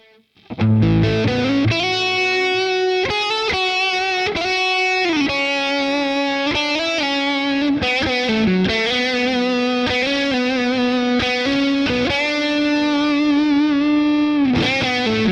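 An electric guitar played through Roland effects with a very quick slapback delay, distorted notes and short chords ringing continuously and loud, with no talk.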